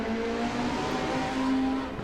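Touring cars racing around Snetterton Circuit in 1995, engines droning steadily and loudly with a sustained pitched whine throughout, as one car climbs over a kerb at the final chicane, with no voices present.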